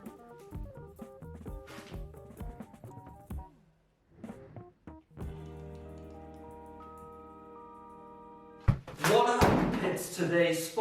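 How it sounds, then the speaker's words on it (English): A homemade Warhammer 40K Thunder Hammer prop plays its sound effect: a run of sharp metallic clanks and knocks, then a sustained electric hum with rising tones, ending in a loud crackling thunderous burst. "This sounds a little bit more like Thunder Hammer."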